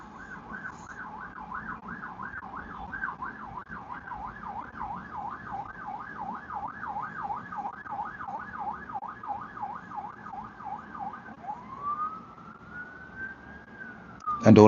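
Emergency vehicle siren wailing through busy city traffic, a fast rising-and-falling yelp cycling steadily for many seconds before switching to a long sweeping wail, loud and near over a constant roar of traffic noise.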